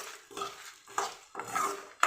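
Masala spices dry-roasting in a kadhai, stirred in a few separate scraping strokes with small metallic clinks between them; quiet and close, with no voices.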